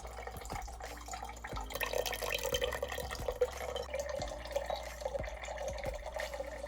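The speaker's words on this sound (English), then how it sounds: "This is coming from the pure water tank." Water runs from the pure water tank of an Ecoviva MATE4 countertop reverse-osmosis filter, a soft steady trickle and splash with occasional drips, close and fairly quiet.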